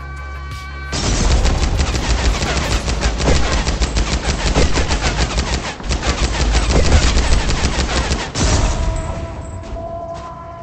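Rapid automatic gunfire from a weapon in the video game ADACA rattles loud and close in a dense, continuous burst lasting about eight seconds, broken by only a brief pause, with no talking.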